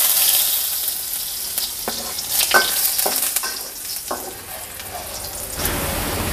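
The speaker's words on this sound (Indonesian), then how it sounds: "Saya masukin bawang putihnya dulu." Chopped garlic hits a hot pan with a loud, close sizzle. Stirring clatters and scrapes repeatedly over the crackling oil, with no speech.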